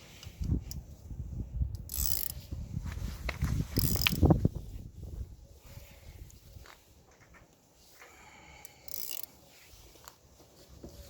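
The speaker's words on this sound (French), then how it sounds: "vous allez utiliser la clé de 12 pour venir desserrer simplement celui-ci" Metal wrench clicking and ratcheting against a 12 mm nut on a Citroën Xsara Picasso brake caliper during a pad change, with several bursts of close mechanical clatter and scraping amid low workshop rumble.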